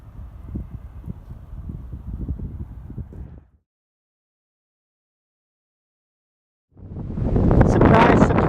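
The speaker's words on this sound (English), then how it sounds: "it's windy again" Wind gusts buffet the microphone in a winter vegetable garden in France, a rumbling roar that cuts out into silence, then returns louder and brighter.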